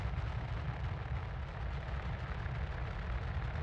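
Deep, rumbling torpedo explosions boom continuously in a space-combat scene from the video game Star Citizen, heavy and dense with no pauses.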